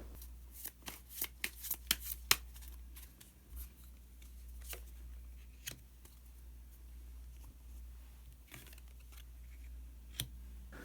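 Tarot cards shuffled by hand in a quiet room, a quick run of crisp riffling snaps over the first few seconds, then scattered single card flicks and taps, close and clear with no talking.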